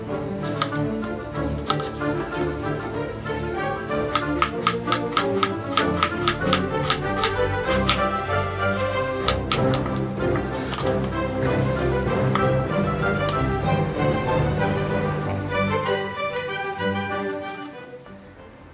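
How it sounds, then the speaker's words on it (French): Knife chopping onion, garlic and button mushrooms on a board: quick, steady, close chops in a busy rhythm, running under background music. "Nettoyage de l'oignon, épluchage de l'ail, découpe des champignons."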